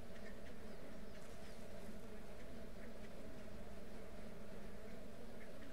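Bees in the video game Ranch Simulator give off a steady, continuous buzzing drone, low and even in level, with no talk over it.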